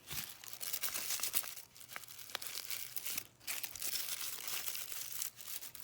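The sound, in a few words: squishing coffee filter paper into a flower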